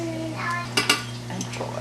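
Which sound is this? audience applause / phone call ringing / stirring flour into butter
stirring flour into butter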